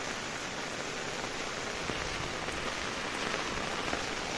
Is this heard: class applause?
no